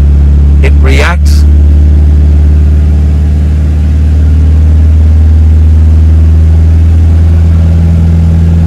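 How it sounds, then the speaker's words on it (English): A Toyota GT86 engine held at steady throttle during an emissions check drones with a constant low hum; a brief voice is heard near the start, then the steady engine note runs alone. "I'm going to just hold the throttle there for a while just to see what way"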